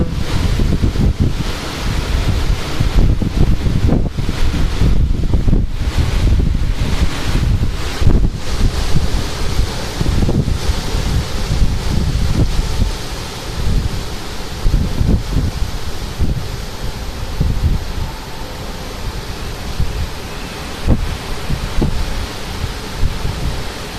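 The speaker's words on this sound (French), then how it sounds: "Et bien, une petite reprise de vent, c'est pas mal." Continuous gusty storm wind roars across the microphone in Clermont-Ferrand, with broadband buffeting rising and falling throughout and a rushing, surf-like wash beneath; no voices.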